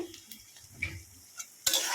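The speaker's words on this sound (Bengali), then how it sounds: "এখন কড়াইতে কড়াইতে পেঁয়াজ দিয়ে দিয়েছি" Onion fries in a wok (kadai) as a utensil scrapes and stirs with a few soft knocks, then a loud, steady sizzle bursts up near the end.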